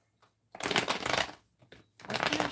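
Tarot cards being shuffled by hand in two close, brisk bursts of riffling and rustling separated by short pauses, with no talking.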